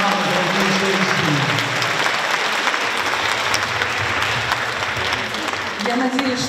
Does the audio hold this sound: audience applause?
yes